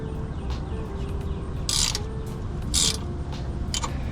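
A deep well socket works a castle nut loose on a 2008 Honda CR-V ball joint, giving a few short ratcheting bursts over steady garage background noise.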